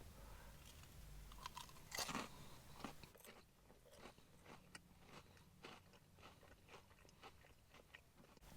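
Close crunching bites and chewing of greasy battered fried fish from a fish and chips takeaway, a loud crackling bite early, then a run of softer crisp crunches, no talk.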